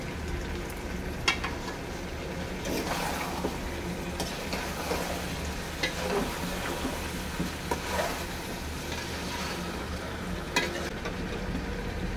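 Country chicken curry with chui jhal frying in a pan over a lowered gas flame, a soft, steady sizzle with occasional faint clicks and stirring scrapes, quiet and continuous.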